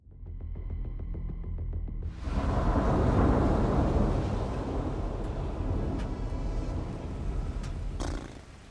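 Steady rain drums on a tent's fabric in a dense, continuous hiss that swells abruptly and stays loud and close, with no talking.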